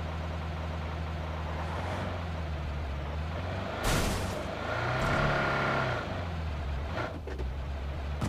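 A vehicle's engine drones steadily while driving in the game PUBG, a continuous low hum that swells briefly in the middle, as if revving or bumping over terrain.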